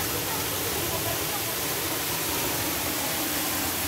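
Mountain water pours down in a steady, dense rush of broadband noise, close and unbroken, like a small waterfall or fast stream at the foot of a mountain. It continues evenly with no clear talk over it.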